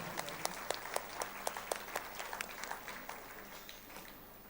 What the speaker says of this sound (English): Let us give our own selves a round of applause